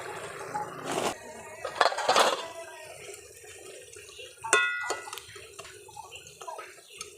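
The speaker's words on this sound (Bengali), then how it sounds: "পরিমাণ মতো একটু জল দিয়ে দেব।" Water poured into a pan of banana flower (mocha) and red lentil curry, a few short splashy bursts of pouring and trickling at close range with quiet gaps between, no talking.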